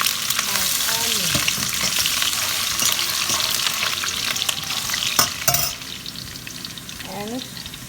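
Onion fries in a pan of seasoned oil, giving a loud, steady sizzle with scraping stirs, and the hiss settles down toward the end.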